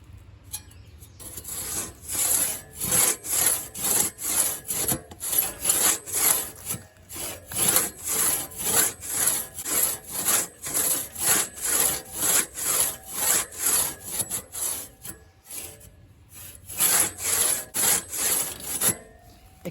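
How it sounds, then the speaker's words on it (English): A vintage crosscut saw cutting through a big dead cherry tree, rhythmic rasping push-pull strokes at a steady tempo, loud and close, with a few short pauses between runs. "So I've got the Crosscut out now, and I'm just trying it out against this"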